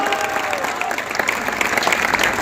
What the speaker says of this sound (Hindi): ताली बजाओ पर जोरदार इन कार्यकर्ताओं के नाम पर